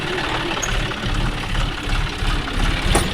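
A John Deere 5050D tractor engine idles close by on farmland with a low, rumbling knock, holding an even chugging rhythm throughout.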